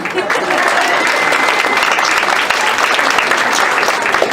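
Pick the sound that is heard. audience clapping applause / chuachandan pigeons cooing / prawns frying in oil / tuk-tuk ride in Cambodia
audience clapping applause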